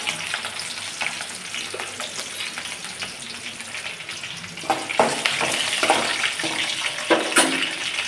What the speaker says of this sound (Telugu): ఫస్ట్ పచ్చిమిర్చి వేసేసుకోవాలి, ఎందుకంటే బాగా ఫ్రై కావాలి కదా పచ్చిమిర్చి